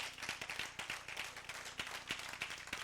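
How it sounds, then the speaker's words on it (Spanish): A church congregation claps in rhythm during a Bible study service, steady, fairly quiet claps at a brisk even pace, somewhat distant, with no talk over them. "De un aplauso al Señor, pero que se escuche."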